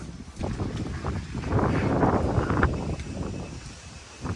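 Gusty wind buffets and rushes past, swelling in the middle and easing off, with a rough, blustery roar and no voices.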